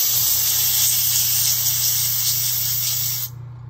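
An airbrush gun sprays a steady, loud hiss of air continuously, with a low mechanical hum underneath, cutting off abruptly near the end.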